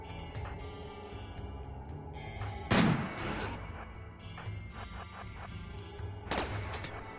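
Mechs firing in RimWorld in an extreme desert setting: one sharp, loud shot stands out, followed a few seconds later by a second blast and some lighter scattered pops, all over a quiet, steady background hum.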